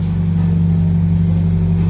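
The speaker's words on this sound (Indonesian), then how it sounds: "mereka masih memasukkan mobil" Cars driving onto a roll-on roll-off ferry at Dumai bound for Rupat, heard as a loud, steady engine hum and low drone inside the vessel, with no voices.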